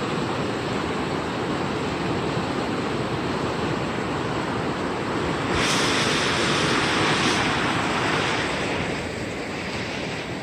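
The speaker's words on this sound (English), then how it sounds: "water's running pretty good. You can probably hear it." Creek water runs steadily through Spearfish Canyon, a continuous, close, full rushing wash that swells slightly midway, with no voices over it.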